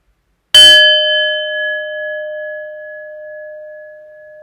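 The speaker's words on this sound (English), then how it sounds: "There's an invitation to just listen to the sound of the bell until you can no longer hear it." A meditation bell or singing bowl is struck once during a seated movement and meditation practice, giving a sharp metallic onset followed by clear sustained tones that ring out and slowly fade, heard alone without voices.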